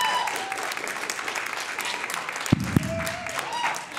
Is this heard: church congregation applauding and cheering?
yes